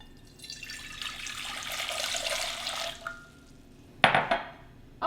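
About four cups of distilled or purified water pour into a stainless steel pot, a rising, rushing stream lasting around three seconds, followed by a few sharp clanks and splashes near the end.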